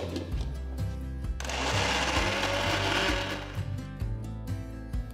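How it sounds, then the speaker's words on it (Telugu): A wet grinder churns soaked lentils into thick batter for vada, a steady motor hum with rhythmic knocking that swells into a louder, grittier whir midway before settling back. "ఇలా బ్యాచెస్లో పప్పుని వేసి రుబ్బడం వల్ల అంత ఈవెన్గా గ్రైండ్ అవుతుంది."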